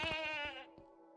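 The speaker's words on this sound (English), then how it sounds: "let's have a little sheepy sheep." A sheep in the video game Minecraft lets out a single short, nasal bleat with a wavering tone, close and clear, no talk over it.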